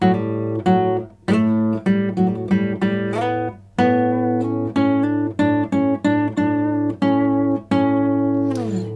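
A guitar picks out a major scale in single notes up and down along one string, steady and even, with a low drone sustaining underneath.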